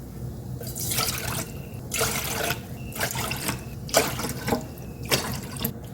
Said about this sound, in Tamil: இந்த கப்பில் 5 கப்பு தண்ணி ஊற்றிக்கலாம்.